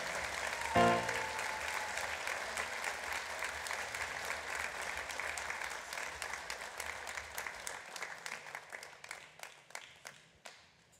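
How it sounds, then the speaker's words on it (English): An audience at a flood appeal event applauds Matt Tennant and his group: a full burst of clapping that swells, holds, then thins into scattered individual claps before fading out. "One round, round of applause for Matt and his group."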